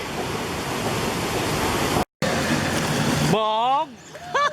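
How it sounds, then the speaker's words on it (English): Fast-flowing river current rushes as a loud, steady broadband roar, then cuts away near the end to a man's excited, sliding vocal whoops. "Wow, the current of the water."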